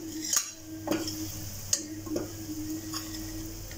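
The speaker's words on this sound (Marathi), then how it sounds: "थोडा तेलात परतूया" Malvani masala sautés in oil in a pan, giving a soft, steady sizzle broken by a few clinks and scrapes of a spoon stirring against the metal.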